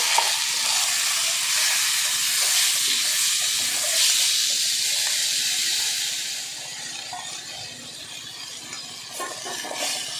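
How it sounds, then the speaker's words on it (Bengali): Dal fries in hot oil in a pan, a loud, dense hissing sizzle that settles slightly quieter partway through, with a few faint clinks and no speech. "ডালটা আমি একটু ভেজে নেব"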